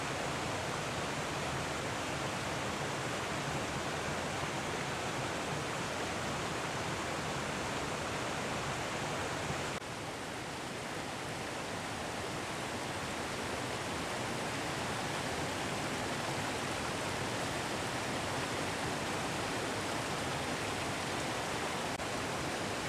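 The Horsepasture River, a trout stream, rushes in a dense, unbroken wash of water noise that holds steady and loud throughout, with no voices.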